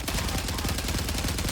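Rapid automatic gunfire in Call of Duty: Warzone, a dense, loud burst of shots in quick succession that fills the whole moment with no pause.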